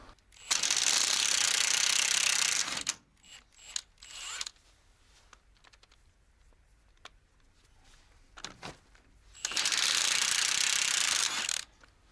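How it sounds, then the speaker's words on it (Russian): Two long, loud bursts of a power tool unscrewing the leaf spring nuts on a truck (a Praga all-terrain build), separated by quieter clanks and rattles of handling. "а сейчас хочу открутить рессоры, посмотреть, смогу ли я стремянки снять эти"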